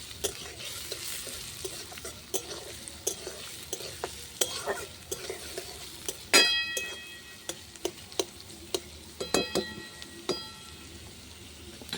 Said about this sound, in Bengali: পেঁয়াজটা হালকা ভাজা ভাজা হয়ে গেছে। এই ডিমের পুরটার জন্য পেঁয়াজটা অত লাল করে ভাজতে হবে না, এইভাবে ভেজে নিতে হবে।